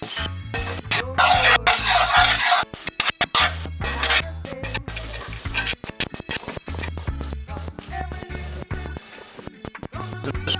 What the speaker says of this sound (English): Get a nice saute on my vegetables.